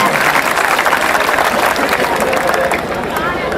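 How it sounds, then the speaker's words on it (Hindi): Audience applause at a Hindi comedy poetry recital, a dense, steady wash of clapping from a large crowd that stays loud throughout and eases slightly near the end. "एक बार जोरदार तालियां बजाएं"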